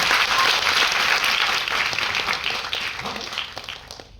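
A room of attendees at a network marketing training session breaks into loud, dense applause that holds strong and then gradually thins out over about four seconds.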